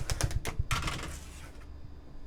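Rotary cutter slicing a quilt fabric block straight across along a ruler, a quick run of sharp crisp clicks and scrapes early on, then a quieter rasping pass that fades out, close and fairly soft.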